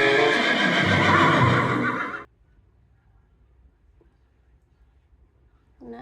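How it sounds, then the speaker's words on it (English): A toy horse gives a loud electronic neigh and whinny for about two seconds, then cuts off into near silence before another sound briefly begins. "Wow, this is a horse."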